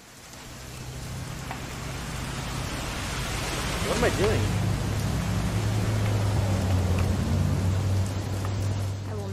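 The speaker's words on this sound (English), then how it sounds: "It's gonna rain the whole weekend, isn't it?" Rain falling in the video game What Remains of Edith Finch, a steady wash of rainfall that swells slightly over the clip while someone talks over it.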